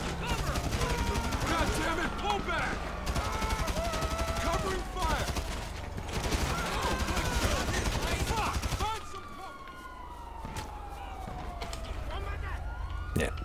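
Rapid assault rifle fire in Grand Theft Auto rattles through a busy, dense mix with police sirens wailing alongside. The shooting thins out near the end as a steady siren tone carries on, and voices are heard over it.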